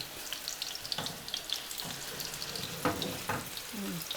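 Large monster meatballs sizzling in a very hot pan give a dense, bright crackle with scattered pops and spits, steady and close throughout.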